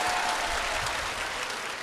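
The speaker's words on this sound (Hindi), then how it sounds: "तो एक बार जोरदार ताली बजाओ।" Loud applause from a large gathering at a Bageshwar Dham religious discourse, a thick, continuous roar of clapping at constant strength from start to finish.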